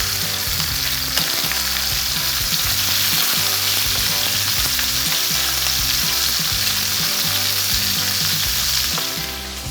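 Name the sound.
meat searing in a pan for summer vegetable curry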